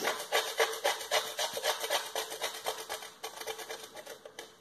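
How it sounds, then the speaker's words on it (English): Chalk is grated into salt in rapid rhythmic scrapes, a steady run of close, gritty rasping strokes with no talk. "grate your chalk into your salt."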